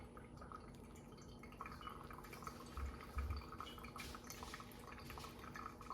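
A steady stream of water pours and drips into a Cera filter in a reusable coffee dripper, continuous and close, with faint clinks and no talking.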